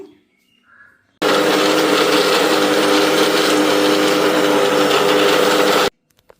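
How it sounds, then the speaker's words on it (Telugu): A kitchen mixer grinder blends a thick mix of tamarind, mustard powder, fenugreek powder, salt and chili, roaring loud and steady for about five seconds, then cutting off abruptly. "ఇది చింతపండు ఆవుపిండి మెంతిపిండి ఉప్పు కారం అన్నీ కలిపేసిన మిశ్రమాన్ని ఇప్పుడు నేను మిక్సీ వేస్తున్నాను"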